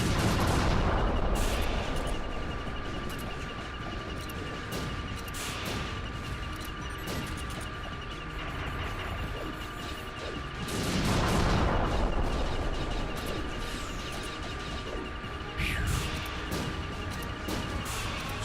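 Grenades and missiles exploding in the video game Metal Gear Solid 3, a dense run of loud, crackling blasts and bursts that swell and fade over a busy backdrop of battle noise.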